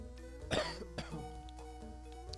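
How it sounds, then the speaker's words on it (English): A person coughs once, loud and close, followed by a rougher throat-clearing sound, then quiet background hum with faint clicks. "Sorry for coughing there,"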